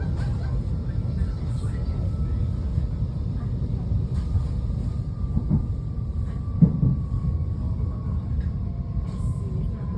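Train pulling into Scoglio station in Puglia, a steady loud low rumble of rolling wagons throughout with a faint long tonal whine and a few brief clanks near the end.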